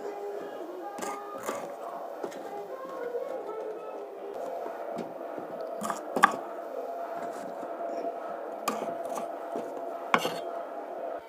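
Knife chopping onions, tomatoes and green chillies on a board in a home kitchen, a few sharp scattered cuts and clinks of utensils over a low background, with occasional faint speech.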